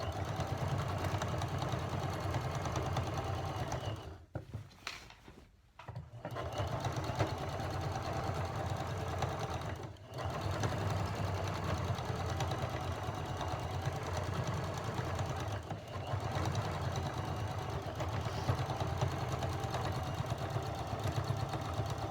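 A sewing machine stitches down a traditional waistband in a steady, close, continuous hum of rapid needle strokes, broken by a few brief stops and a short pause before resuming.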